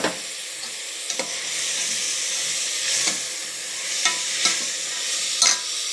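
Peas fry in a hot pan with a steady, close sizzle and hiss, broken by a few sharp clicks and scrapes of stirring.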